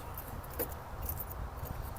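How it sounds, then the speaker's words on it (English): Keys for a 1956 Continental Mark II jangle softly in a brief two-second burst of light metallic clinking over a low background rumble, with no talking. "I always bring 2 sets of keys for my cars."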